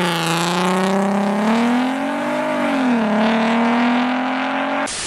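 A modified first-generation Audi TT engine revs loudly and close, its throaty pitch climbing, dipping and rising again before cutting off abruptly.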